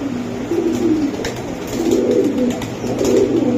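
Pigeons at a pigeon sale, including red Gorra and Pakistani birds, give low, throaty cooing in repeated rolling phrases, close and fairly loud, with no voices heard.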